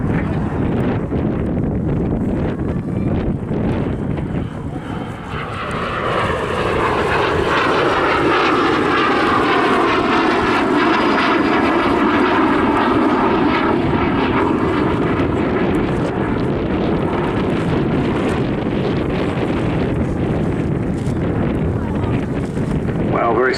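A Lockheed T-33 Shooting Star jet flies past at an airshow, its engine roar swelling and sweeping in pitch as it passes, with wind buffeting the microphone and a voice talking underneath.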